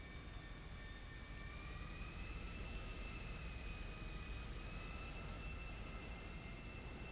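An airplane engine whines steadily in the game GTA 5, a continuous high-pitched jet tone over a constant roaring wash, with no talk over it.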